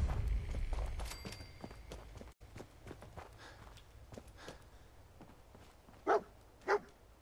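Dogmeat, the dog companion in Fallout 4, pads along with soft, rhythmic footsteps under low ambient game noise, then gives two short, distinct barks near the end.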